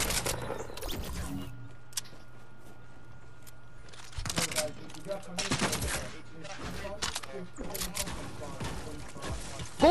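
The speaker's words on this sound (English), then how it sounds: "Who's shooting?" Clusters of sharp video game gunshots rattle out in quick bursts, some near and loud, others lighter, separated by quieter gaps, with players talking between and over the shots.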